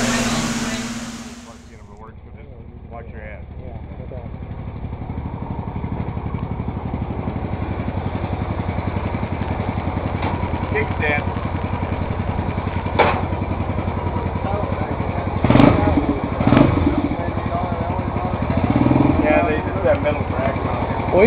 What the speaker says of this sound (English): we're going to take this baby out for a test ride, the Q-Link Tour 250